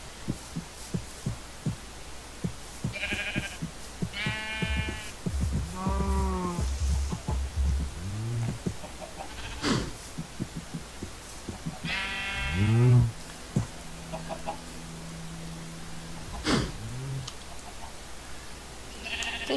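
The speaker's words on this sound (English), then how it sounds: "I can't believe I got two more sheep." Sheep bleating in the video game Minecraft, several separate bleats repeating at irregular intervals over a steady low thumping background.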